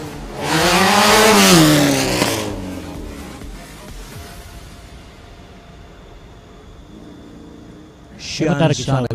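A Formula McLaren race car on its run, a loud close engine roar rising in pitch as it accelerates and passes, then fading to quieter background before another engine burst at the end.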